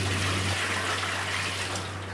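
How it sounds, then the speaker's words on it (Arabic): Water pouring steadily into a large cooking pot fitted with a steaming rack inside, a continuous close splashing rush with a low hum beneath it and no speech. "نحط عليها الماء"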